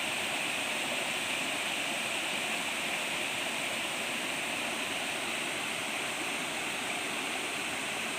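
A rainy-season waterfall and canal stream flowing toward the Pa Sak dam in Thailand make a constant, dense, full rushing roar, steady and unbroken throughout with no voices.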